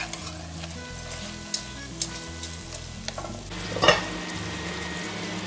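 Rice tipped into hot oil for a jackfruit biryani, sizzling and frying at a low steady level. Light stirring clinks come now and then, with a sharper burst near the end. No voices.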